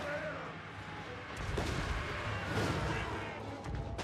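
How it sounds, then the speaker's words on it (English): Artillery fires during a video game battle with a Dwarf army: repeated heavy booms and blasts land over a constant churning battle din, loud and close. "Taking some artillery shots"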